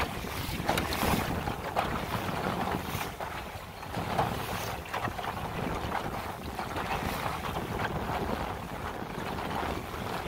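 A lug-rigged Shellback sailing dinghy under sail in strong wind, with continuous gusting wind noise buffeting the microphone and water rushing along the hull throughout.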